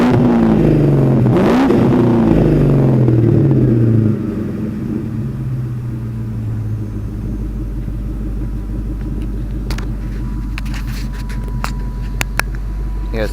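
A Pontiac Trans Am engine revs sharply through a DNA catback exhaust with an EGR delete, a few loud rising blips up close before it drops back to a deep, steady rumbling idle.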